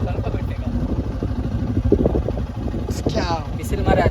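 A motorcycle engine idles and revs lightly as the clutch is eased out, a steady low rumble close by, while someone talks over it.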